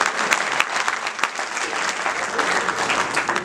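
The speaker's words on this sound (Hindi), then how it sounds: "तालियां मिलके बजा दो" A crowd applauding steadily, dense clapping from many hands filling the space without pause.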